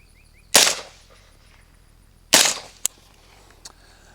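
Two loud, close suppressed rifle shots from a rifle fitted with a JMac Customs Banka suppressor, each a sharp crack with a brief decay, spaced about two seconds apart, followed by faint clicks.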